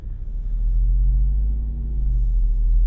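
A 2024 Jeep Wrangler Rubicon 392 Final Edition rumbles loudly as it drives, its deep, heavy engine note holding steady and swelling slightly, with no voices over it.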